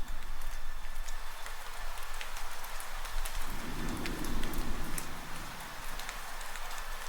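Rain falls steadily in a dinosaur park video game, a dense, loud patter of drops throughout, with a low rumbling swell in the middle and no talk.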